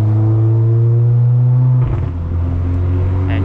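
An Audi car set to Dynamic mode accelerates hard, its loud, close engine note climbing steadily before a sharp shift-like drop, then resuming a steady pull with no talk.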